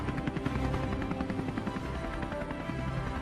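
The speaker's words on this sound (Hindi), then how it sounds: "सुरेश उन्हें वो अल्ट्रा फाइटर हेलीकॉप्टर तैयार करके दे देता है" A steady rotor drone from a cartoon fighter helicopter hovering in midair, loud and continuous with no voices.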